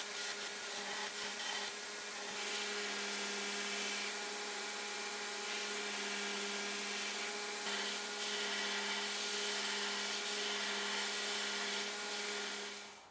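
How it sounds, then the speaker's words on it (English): A bench grinder profiling a wooden handle for a Santoku chef's knife, running as a continuous steady motor whine with a constant abrasive rasp, close and sustained throughout with no talking. "I'll head to the grinder to profile the handle"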